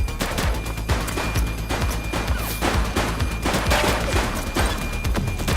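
Gunfire in The Precinct, a police game, rattles as a sustained fusillade of rapid, loud shots across the whole moment, dense and close with no pauses.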